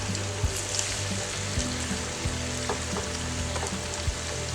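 Potato and cauliflower bhajiya fry steadily in hot oil, a dense continuous sizzle with scattered crackles and pops, close and loud throughout with no voices.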